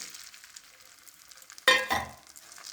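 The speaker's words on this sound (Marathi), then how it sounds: "थोडेसे बेदाणे घालून थोडेसे व्यवस्थित हलवून भाजून घेऊ" Raisins stirred and roasted in a pan for rice kheer: a quiet background hiss, then two short, louder scraping stirs close by near the end.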